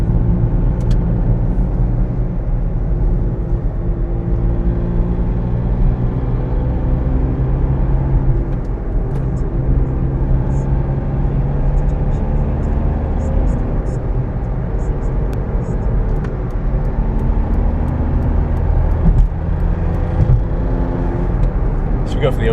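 A Toyota Aygo small hatchback in the UK joins a motorway, with a steady engine drone and road rumble that build slightly as it picks up speed, running continuously and loud throughout.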